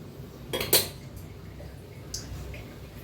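A spoon clinks against a bowl while corn pakora batter of thick cornmeal and oil is stirred, a few sharp metallic taps over a soft background.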